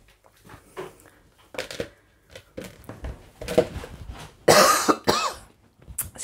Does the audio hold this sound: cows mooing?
no